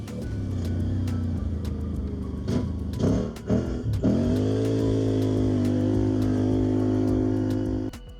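An AODES Pathcross 850 Mud Pro ATV accelerates, its engine droning steadily, dipping through a few gear changes around the middle, then climbing again in a sustained rising tone, heard close without talk.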